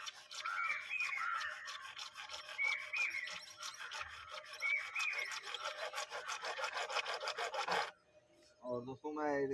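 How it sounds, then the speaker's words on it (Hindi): A bare hacksaw blade held without its frame cuts in quick, rhythmic back-and-forth rasping strokes, close and steady for about eight seconds before stopping, followed by a brief low hum. "इसको डायरेक्ट फ्रेम से बाहर निकाल के आरी पत्ती के द्वारा ही काटा जाएगा।"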